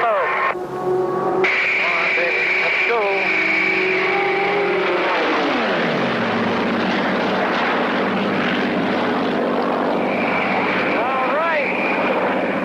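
The RB-51 Red Baron racing aircraft drones steadily on a speed record run, its engine tone sustained and dropping in pitch as it passes, with a faint radio-like voice layered underneath.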